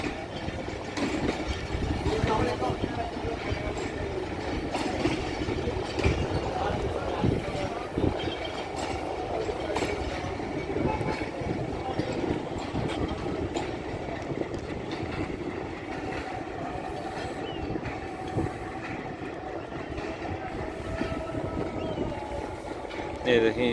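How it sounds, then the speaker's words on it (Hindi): Hazara Express pulling into platform 4 at Golra Sharif Junction, a continuous heavy rumble of rolling wagons with rattling and clanking throughout, loud and near. "ये देखें ये अब ये हज़ारा एक्सप्रेस प्लेटफॉर्म नंबर 4 पर आ गई है।"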